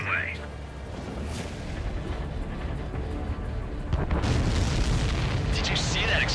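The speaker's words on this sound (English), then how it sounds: "Did you see that explosion?" Explosions in the Ace Combat 7 flight game, deep booming blasts and rumbling bursts layered over continuous aircraft noise, loud and close, with radio voices talking through the action.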